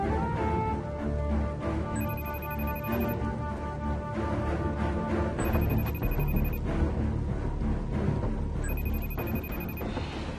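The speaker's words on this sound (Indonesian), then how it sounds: "kamu kok nggak angkat teleponnya?" A telephone rings in three repeated bursts about three seconds apart, a bright electronic trill sitting over a steady bed of background music in an Indonesian drama scene.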